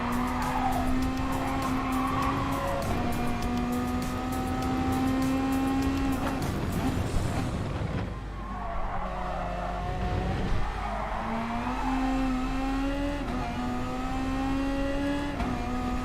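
A race car in Gran Turismo Sport revs hard with a steady engine tone and squealing tires, then dips briefly as it upshifts before climbing again, loud and continuous with no talk.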